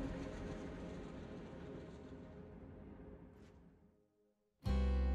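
Train moving in the Final Fantasy 7 Remake video game, a rumbling, rattling roll that gradually fades to near silence before a sudden loud, booming burst of sound.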